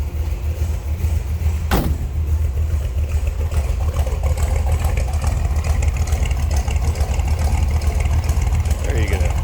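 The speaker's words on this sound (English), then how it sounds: "Nice throaty exhaust note. Little rumble to it, like I said, with the cam." A 1946 Ford two-door sedan with a cammed engine idles in neutral after a cold start, a steady, throaty low rumble from the exhaust, with someone talking over it.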